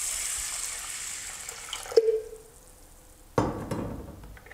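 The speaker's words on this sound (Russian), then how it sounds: "Так, а пока промываем перловку." Running water rinses pearl barley in a kitchen, a steady hiss and splash from the tap that cuts off briefly, then a sharper burst of pouring and sloshing resumes near the end.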